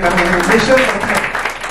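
Applause from a gathered audience at a 50th birthday celebration, a steady broadband patter lasting under two seconds, mixed with someone speaking over it.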